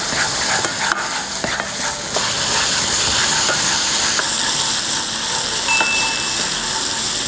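Onion and garlic paste fries in oil in a pan, a loud, continuous sizzling hiss close by, broken by a few clinks and scrapes of stirring, with no one speaking.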